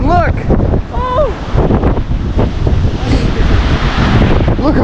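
Strong 50-60 mph wind gusts roar across the top of Mount Si during a blizzard warning. The loud, continuous rushing noise swells and buffets the microphone throughout, while voices exclaim over it.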